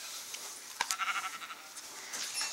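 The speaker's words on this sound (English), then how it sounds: "Hello, sheepy." A sheep bleats once near the middle, a short wavering call with a sharp onset, close and fairly clear against quiet background rustle, with no one talking.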